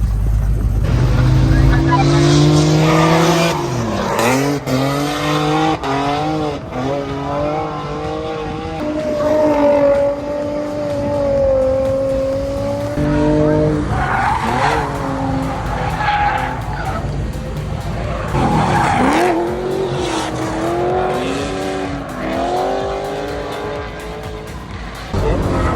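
Radio-controlled drift cars with Japanese car bodies skid on an indoor track in America, giving loud, continuous tire squeals that rise and fall in pitch over whining small motors, with people talking and exclaiming nearby throughout.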